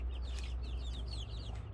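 Cuckoo-barred Leghorn hens cluck softly in short repeated notes over a steady low hum, fairly faint and somewhat distant.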